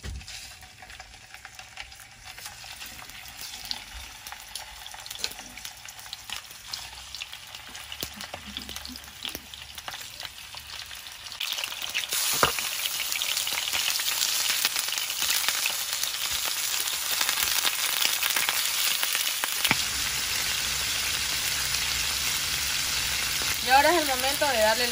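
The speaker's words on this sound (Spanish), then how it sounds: "Una vez que el sartén está caliente o su olla, colocamos el pollo con la piel hacia abajo." Chicken pieces searing skin-side down in a hot pan or pot, a steady sizzle that grows louder and denser partway through, with faint clatter and brief handling noises, close and continuous.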